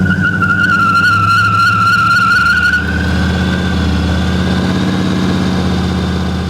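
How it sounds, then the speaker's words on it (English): A car's engine on a muscle-car garage project idles and revs with a high whining squeal for the first half, then settles into a loud, rough running rumble; no talk. "Want me to show you how it skids?"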